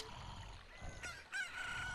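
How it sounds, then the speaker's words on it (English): A chicken crows in the Zelda Ocarina of Time video game, a faint, thin cock-a-doodle-doo call with a short rising cry near the end over a quiet background. "Yo, what's up, chicken?"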